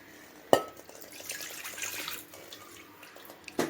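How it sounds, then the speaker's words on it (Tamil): Water runs and splashes from a tap into a cooking pan being rinsed in a kitchen, framed by two sharp metallic clanks at the start and end, fairly quiet and close. "இதுலேயே கொஞ்சம் தண்ணி ஊற்றி நம்ம அலசி ஊற்றிக்கலாம்."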